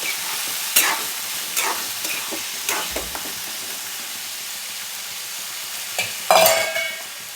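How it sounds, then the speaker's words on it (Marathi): Peas being sautéed with tomato masala in a pan, a soft sizzle broken by several sharp spatula scrapes and stirs, nearby and without speech. "आपण वाटाणे टाकून घेऊया. छान परतून घ्यायचं आपल्याला."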